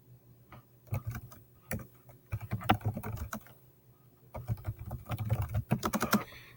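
Bursts of close, clicky typing on a computer keyboard, entering text into a Canvas assignment, with short pauses between runs of keystrokes and no speech.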